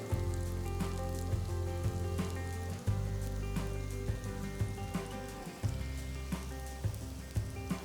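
Mushroom galouti kebabs fry in a pan until golden brown, giving a steady, close, rain-like sizzle with soft spattering pops and a couple of brief bumps as the patties shift, with no talking.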